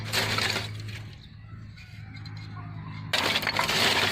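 Hard acacia wood pieces, from a stove's base, knock and clink together with a bright, metallic ring, in a burst at the start and again near the end.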